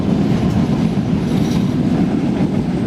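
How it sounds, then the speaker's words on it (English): A metro train rumbles past near Newcastle Airport, a loud, steady rolling roar with faint rhythmic wheel clatter and a slight squeal, continuing throughout with no speech. "That's just the metro train you can hear in the background."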